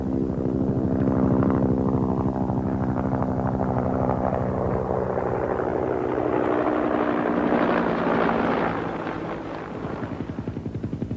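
A Cobra military helicopter passes back overhead at about 500 feet, its steady rotor thump and engine roar loud and continuous throughout, swelling slightly as it comes closest and then easing off near the end.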